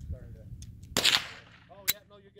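A handgun fires at a target, giving a sharp, loud crack midway followed by a second brief snap, with quiet background murmur and a voice nearby.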